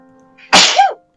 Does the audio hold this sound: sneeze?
yes